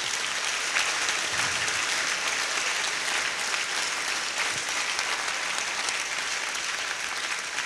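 An audience applauding the guests at a welcome assembly, with dense, even clapping from a large crowd that holds steady throughout.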